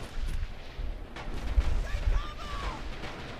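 Rifle shots and distant battlefield booms from the World War II shooter Red Orchestra 2 crack in an irregular scatter over a noisy combat background, several sharp reports spread across a few seconds.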